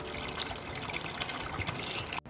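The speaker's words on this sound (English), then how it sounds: "Add 2 glasses of water to this." Water trickles and pours into a pot of milk for a Burmese Thai fusion soup, a light splashing stream close by that stops abruptly at the end.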